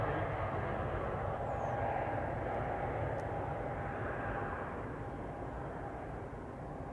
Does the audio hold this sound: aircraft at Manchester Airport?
yes